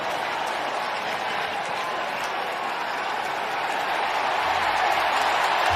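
A stadium crowd at an American football game, the Cleveland Browns in the 2021 season, gives a loud, sustained roar that stays broad and steady and swells slightly toward the end, with no clear talk above it.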